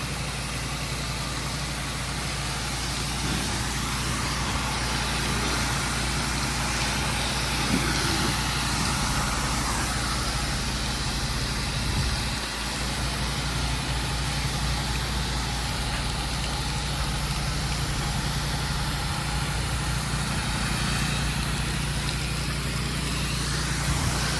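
A pressure washer rinses a house and driveway after a Zep degreaser treatment, its engine droning steadily and continuously at close range beneath a broad spray hiss, with no speech.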